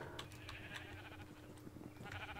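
Sheep bleat repeatedly in a modded Minecraft farm area, fairly close, over a steady game background hum.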